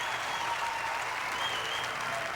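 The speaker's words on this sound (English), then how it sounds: "and now he's got the crowd working for him" An arena crowd applauds bowler Jason with a continuous, even wash of clapping and cheering that holds steady throughout the short stretch.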